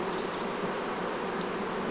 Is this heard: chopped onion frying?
no